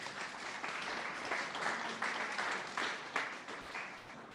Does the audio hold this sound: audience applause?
yes